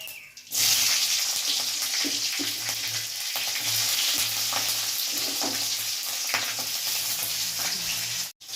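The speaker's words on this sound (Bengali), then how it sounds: "তেলটা গরম হয়ে গেছে এবার ফোড়নে দেবো আমি কালো জিরে আর দেবো চেরা কাঁচা লঙ্কা" Nigella seeds and slit green chillies sizzle loudly in hot oil in a kadai, with a steady crackling hiss and occasional stirring scrapes. It runs close and continuous, then cuts off sharply.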